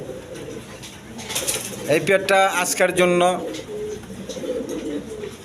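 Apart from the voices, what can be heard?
blackless bunty net pigeons cooing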